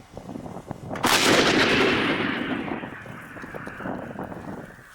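A single loud artillery cannon blast during a military firing exercise, a sharp boom followed by a long rolling echo that fades slowly over several seconds.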